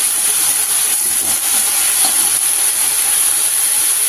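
Bottle gourd greens (lao shak) stir-frying in a pan, giving a steady, dense hiss of sizzling that holds evenly throughout with no talking.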